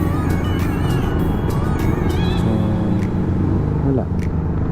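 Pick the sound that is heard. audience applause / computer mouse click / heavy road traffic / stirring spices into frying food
heavy road traffic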